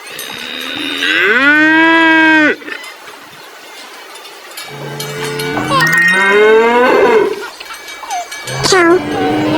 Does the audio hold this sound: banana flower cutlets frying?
no